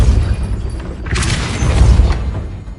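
A Depulso force spell in Hogwarts Legacy lands as a short whooshing burst in the middle, set over a continuous low game rumble with no speech.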